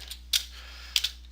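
A few scattered clicks of keys on a computer keyboard as a folder name is typed, soft and close, with quiet gaps between short bursts.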